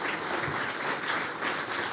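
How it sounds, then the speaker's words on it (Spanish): An audience claps steadily at a talk show about books and poetry, a dense continuous wash of applause with no pauses, fairly close and full. "Un aplauso."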